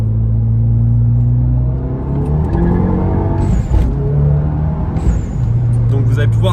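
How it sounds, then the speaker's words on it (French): A VW Golf accelerates, heard from inside with the windows closed: a loud, deep engine rumble builds, broken by two sharp hissing bursts from the dump valve. "je vais vous faire une accélération fenêtre fermée pour que vous puissiez voir le son un petit peu que ça fait de l'intérieur"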